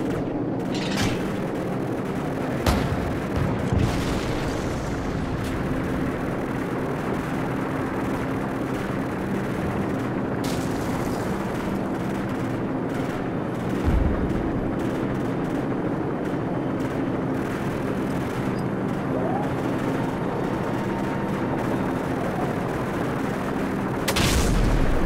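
Call of Duty 4 combat with 25mm cannon fire and explosions over a steady helicopter drone, with a few sharp booming impacts spread across the stretch, loud and near.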